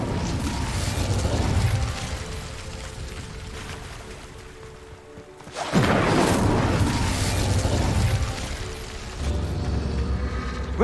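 Incendio fire spell in Hogwarts Legacy: a dense, roaring rumble with mechanical clatter that dips briefly into near silence, then a fresh loud fiery burst, with another surge near the end.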